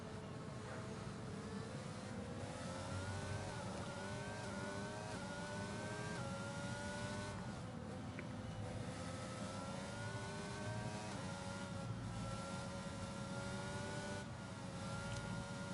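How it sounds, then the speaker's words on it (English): F2 race cars in a racing video game run continuously through a Mexican GP race, with overlapping engine whines rising and shifting as the cars accelerate and change gear, steady and loud throughout. "The cars are just sliding through Sector 2."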